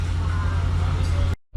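Dodge Challenger 392 V8 fitted with Dynomax Race Bullet mufflers, idling with a steady, deep low burble up close that cuts off abruptly at the end.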